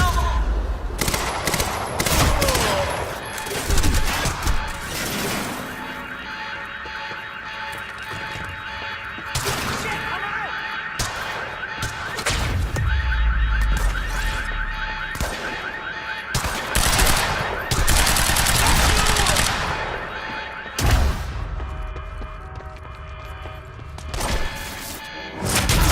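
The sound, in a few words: gunfire from the video game Quantum Break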